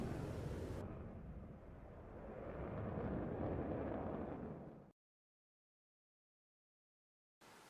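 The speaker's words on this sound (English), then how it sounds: "The missiles exploded harmlessly behind the MiGs" Two Matra Magic R550 air-to-air missiles detonating behind turning MiG jets, a deep rumbling boom that swells and rolls for several seconds, then cuts to silence before a brief return of low roar.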